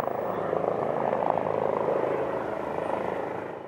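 A military helicopter arrives at the Kossuth barracks in Debrecen, its rotor throbbing in a rapid, steady beat that is fairly close and fades slightly toward the end.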